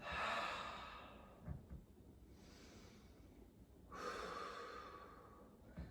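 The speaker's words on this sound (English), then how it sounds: "Breathe." Deep, slow breaths during a power yoga flow, a long exhale followed by a quieter pause and another big inhale, soft and close with no talking.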